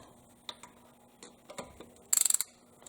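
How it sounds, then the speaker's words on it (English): A cheap torque wrench clicks in a quick burst of about seven sharp ticks while cylinder head bolts are tightened on a cheap eBay head for a small-block Chevy 406 in an S10, after a few scattered faint knocks. "As far as the clicks, it's kind of very faint"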